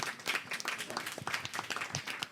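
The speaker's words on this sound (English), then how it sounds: "Round of applause, everyone, for doing really well." Audience applause after a round of applause is called for in a children's learning session, a short burst of brisk, scattered clapping at moderate loudness.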